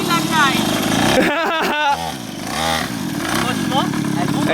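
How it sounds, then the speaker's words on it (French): A mini motorcycle engine buzzes loudly at close range, cutting out briefly in short gaps before revving again with rising and falling pitch, while people talk nearby. "Elle va vite pour une petite moto ou pas?"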